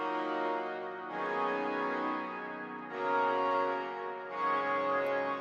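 Santa Maria synth pad from the VPS Avenger Factory 2 library, playing chords layered under a chord stack: four sustained, bright chords changing in turn, smooth and even at moderate level with no voices.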